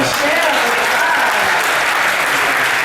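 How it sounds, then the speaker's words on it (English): A cruise-ship crowd at a drag stars Q&A applauds a drag performer, with loud continuous clapping and cheering filling the room and faint voices mixed in beneath. "So let's give it a round of applause for this girl"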